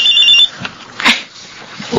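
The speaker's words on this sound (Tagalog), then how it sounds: "May tumatawag sa cellphone ko." A cellphone ringing with an incoming call, a loud, close electronic ringtone with bright repeating tones at the start and another brief chime partway through, with no speech.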